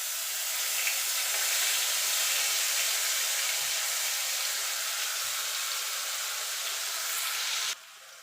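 Onion paste fries in a pan for Bengali rui fish kalia with a steady, close, even sizzling hiss that holds constant before cutting off abruptly near the end.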